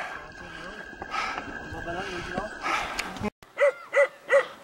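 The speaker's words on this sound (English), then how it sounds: "Oh, he's been barking for like 2 minutes." A dog barks three times, fairly close and evenly spaced, near the end of a stretch where people talk over outdoor noise on a Himalayan trekking route near Namche.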